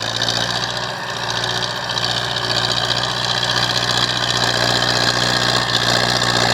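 An MTZ-80 tractor engine runs steadily while ploughing a field, loud and close, with a constant droning hum and mechanical vibration throughout and no voices.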